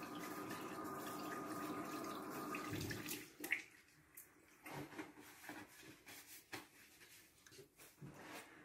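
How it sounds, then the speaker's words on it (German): Running tap water splashes steadily for about three seconds as hands are washed with soap, then cuts off, leaving faint drips and soft rubbing sounds close by. "Wiederum zunächst die Hände gründlich mit Seife 20 Sekunden mindestens waschen"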